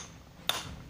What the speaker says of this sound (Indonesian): Coba saya akan membongkarnya dengan memukul baterai dengan palu dan semoga aja tidak muncat.